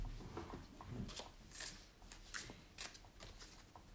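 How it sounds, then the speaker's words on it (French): Cards being shuffled and drawn for a daily oracle-style card draw, a series of soft crisp riffling flutters and quick slaps, close and quiet, with no talking. "Allez, on va faire le petit tirage de la journée."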